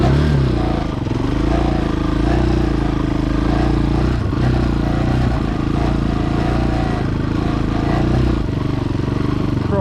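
A Chinese dual sport motorcycle rides through snow, its engine droning steadily and loud up close with some clatter and slight shifts in revs throughout.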